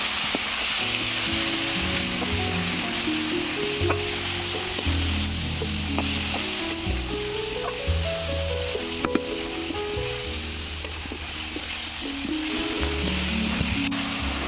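Vegetables with chili, cumin and coriander powders sizzle steadily in a hot pan while a spatula stirs and scrapes them in uneven strokes.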